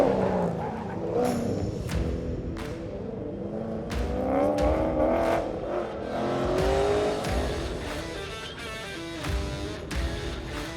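A Corvette race car accelerates hard around the track at LS Fest, its engine rising and falling through several upshifts, loud and close, with a few sharp pops and clatters along the way.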